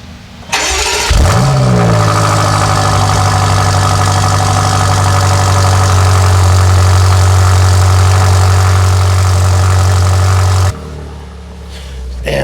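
A newly delivered car's engine starts with a sharp catch and then settles into a steady, loud, close idle with a deep low hum that runs unbroken for about ten seconds before cutting off.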